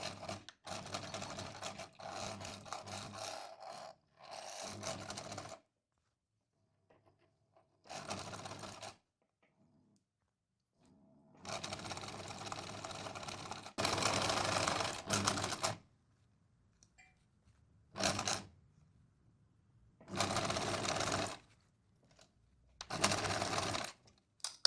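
Several bursts from a sewing machine stitching a maxi scrunchie, short back-and-forth runs at start and end with stitch length 2.5, separated by silent pauses, close and clear with no talking.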